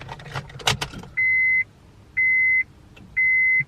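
A 2000s Acura RSX that fails to crank: a jingle of keys in the ignition followed by three evenly spaced electronic chimes, with no starter or engine sound.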